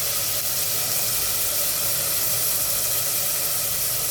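Onions cooking in a pan for a matoke and beef stew give off a steady, broadband hiss and steamy sizzle that runs unbroken and fairly loud throughout.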